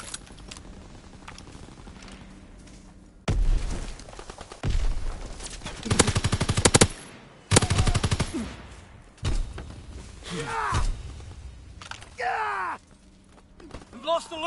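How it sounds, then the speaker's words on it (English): Anti-aircraft gun in Call of Duty firing in several loud, rapid bursts of a few seconds each, with pauses between them and shouted voices over the battle noise. "We're at the AA gun!"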